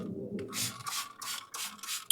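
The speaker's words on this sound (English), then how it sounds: "just kind of cleaning out my grates real quick" Smoker grill grates being scrubbed clean with a brush, a few close, rough rasping strokes in a steady back-and-forth rhythm.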